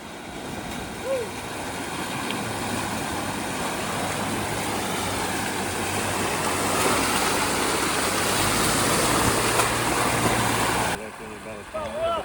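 An off-road vehicle pushes through a water crossing on an Ozark trail, a loud continuous churning rush of engine and splashing water that swells slightly before cutting off abruptly near the end.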